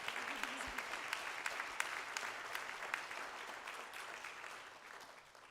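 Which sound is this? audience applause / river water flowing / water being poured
audience applause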